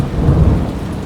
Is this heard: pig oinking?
no